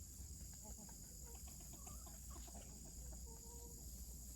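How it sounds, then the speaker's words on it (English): Roosters and hens cluck and mutter outdoors around a garden raised bed, two roosters and a hen among them, the calls fairly faint over a steady hiss of insects and background noise. "You got the 2 roosters and 1 hen out there."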